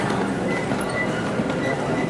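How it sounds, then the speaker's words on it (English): A steady rumble of a Christmas village model train rolling past at a Walt Disney World hotel, with broad rail noise and faint clatter throughout, no voices. "And there goes the train."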